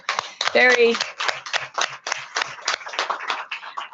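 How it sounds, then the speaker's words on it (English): Applause in a university board of regents meeting room, a burst of scattered hand claps from a modest group, moderately close and lasting a few seconds, with a brief voice mixed in. "can we just have a round of applause"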